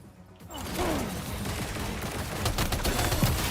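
Machine gun fire in the video game Death Stranding 2: a dense, loud fusillade of rapid shots that starts after a brief quieter moment and keeps rattling, close and unbroken, to the end.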